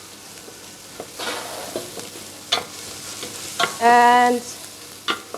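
Onions fry in a pan for a creamy chicken curry with pineapple, a soft sizzle punctuated by a few sharp utensil knocks and scrapes, fairly close.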